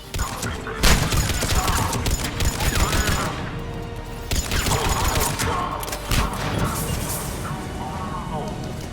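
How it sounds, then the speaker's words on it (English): Dense gunfire in the sci-fi shooter Mass Effect 3, rapid bursts of shots and crashing impacts in two heavy waves, with voices speaking through the battle. "Under heavy attack. Taking fire."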